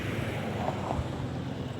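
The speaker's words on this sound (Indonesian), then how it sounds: "Wow, angin kencang nih." Strong gusting wind roars steadily outdoors during kite flying, buffeting the microphone with a dense, rumbling rush and no clear pauses.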